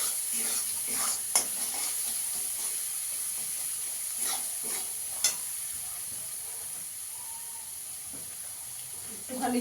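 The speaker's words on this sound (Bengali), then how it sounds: "দিয়ে ভালো করে এটা কষিয়ে নেবো যতক্ষণ না আদা রসুনের কাঁচা গন্ধ যাচ্ছে।" Ginger-garlic paste with Kashmiri chilli powder being stir-fried in a pan, with a steady soft sizzle and occasional scraping strokes of a spoon, close and continuous.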